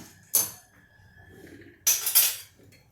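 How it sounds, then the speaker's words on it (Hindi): A pressure cooker is set down in a home kitchen while Vidarbha-style rice is being cooked, giving two separate metallic clanks and clatters, the second longer and rattling, with quiet pauses around them. "चावल बनाने के लिए मैं यहाँ कुकर रखती हूँ"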